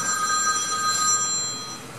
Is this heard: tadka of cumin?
no